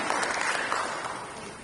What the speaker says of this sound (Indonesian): Mari kita berikan tepuk tangan yang meriah